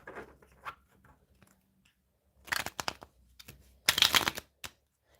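Several bursts of tarot cards being shuffled, crisp rapid riffles separated by quiet gaps, nearby and moderately loud.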